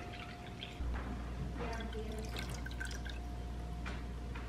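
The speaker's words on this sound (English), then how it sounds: "4 tablespoons of rice vinegar" Rice vinegar poured into a measuring spoon, a thin trickling stream with light drips and splashes, close and fairly quiet, with no voices.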